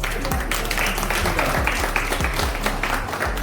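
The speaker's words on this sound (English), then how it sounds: "let's clap for them" Audience applause breaks out and holds steady through the whole stretch, a dense wash of clapping with a few louder individual claps on top.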